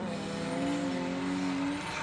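Drift car on a smoky qualifying track at a pro drifting competition: a loud, sustained engine roar with a steady high rev tone and tire hiss, no voices.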